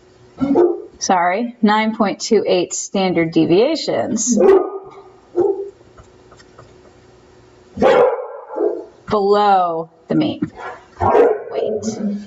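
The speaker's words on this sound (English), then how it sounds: "And you can hear my Bernese Mountain Dog barking up a storm." A Bernese Mountain Dog barks in loud, repeated bursts, some drawn out and yelping, near and mixed with a person talking over it.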